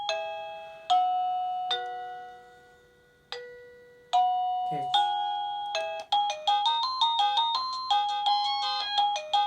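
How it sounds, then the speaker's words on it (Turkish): A wireless doorbell (Spigen E100W) rings several spaced single chime tones, then breaks into a rapid, cheerful electronic melody; a brief voice is heard faintly midway. "Bayram havasında bir kapı zili."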